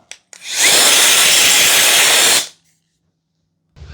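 A WOLFBOX MegaFlow100 air blower runs on high power for about two seconds, a loud, steady broadband rush of air that starts sharply and cuts off abruptly, with brief handling noises before and after and no talking.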